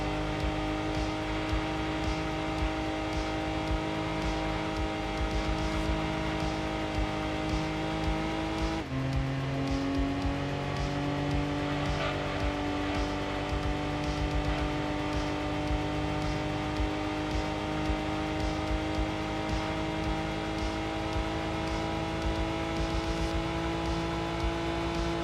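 Small kei-class Suzuki Cappuccino racing engines in Gran Turismo 2 on PS1 during a Lightweight K Cup race, a steady loud whining drone of revving cars with a gear-change pitch drop partway through, no talking.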